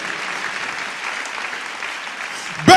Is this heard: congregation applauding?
yes